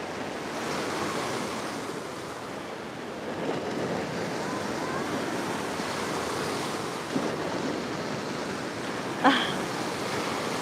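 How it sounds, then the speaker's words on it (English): Ocean surf rolls steadily onto Batumi Beach by the promenade, a broad continuous wash with gusts of wind and a couple of faint knocks. "can you hear the waves?"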